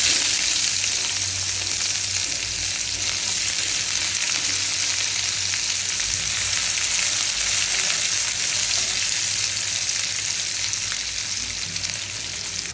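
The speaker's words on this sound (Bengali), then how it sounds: "আমি 1 কাপের মতো পেঁয়াজ কুচি দিয়ে দিলাম।" About a cup of chopped onion fries in hot oil in a pan, making a loud, even sizzle that holds steady and close throughout with no talking.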